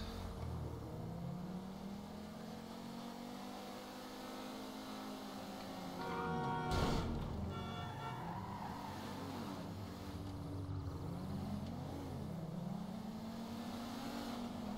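A car in the video game GTA 5 runs at full throttle, the engine droning and rising and falling in pitch through gear changes, with a brief loud burst of noise midway and no talk.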